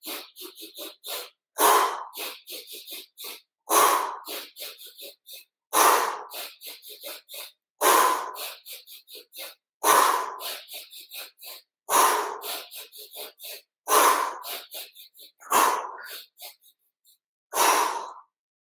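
Forceful rhythmic breathing during a yoga pranayama exercise: about nine bursts of sharp, rapid exhalations, each a quick cluster of puffs followed by a short pause, close and loud with no talking.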